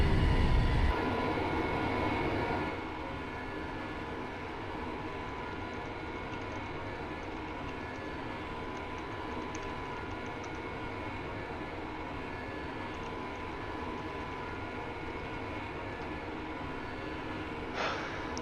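Steady, droning hum of a small airplane engine taxiing during a formation flight competition, loud at first with a gusty rush that drops after a few seconds into an even, continuous rumble with no talk.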